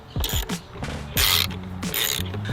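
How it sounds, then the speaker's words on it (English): A 10 mm ratchet drives bolts into a mounting bracket for a hose reel, giving quick close bursts of clicking interrupted by short pauses, with no talking. "We are a 10 millimeter, and we will get this going. And now we screw them in on each side."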